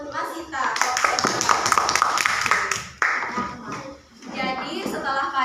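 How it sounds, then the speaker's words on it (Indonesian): An elementary school class claps for a classmate, with quick, uneven hand claps rattling through the room under children's voices and chatter, then a short pause and another scattered round. "Oke, tepuk tangan buat Mas Sita."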